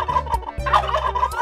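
A turkey gobbles in a series of loud, close, rapid warbling calls, rising and falling in bursts with short gaps between them.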